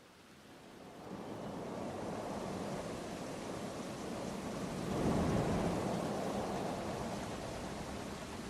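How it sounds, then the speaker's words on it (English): Steady rain with rolling thunder across a theme park in Planet Coaster 2, a dense continuous wash that swells louder midway with a low rumble, no voices. "Just gonna turn the rain off."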